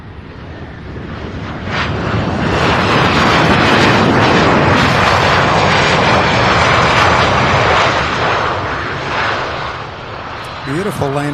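Jet airliner landing at Louisville International Airport, a loud sustained engine roar that swells and then fades as the aircraft rolls out, with a faint voice at the very end.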